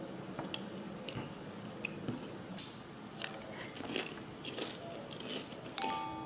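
Chips with salsa eaten at lunch, giving soft repeated crunching and chewing bites close to the mic, with a louder clatter near the end.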